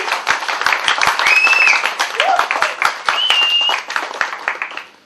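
Studio audience on the set of the Indian TV serial Udann bursts into loud, close applause, dense clapping with sharp individual claps and some chatter and vocal sounds mixed in, fading at the end.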